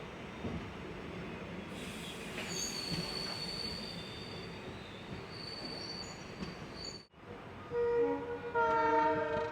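The Palakkad Town–Tiruchi Express rolls along near Walayar with a steady rumble of wheels on rails, high squealing tones, and a brief dip before a louder horn-like blare near the end; nobody speaks.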